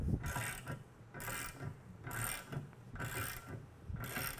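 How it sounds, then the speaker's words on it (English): A wrench ratchets on the jack bolt of an SMP Valve Out Tool used to spread a pipe flange: five quiet, evenly spaced ratcheting bursts heard up close. "the flanges are beginning to separate as you jack on the jack bolt"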